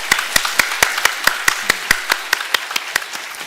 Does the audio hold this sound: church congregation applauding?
yes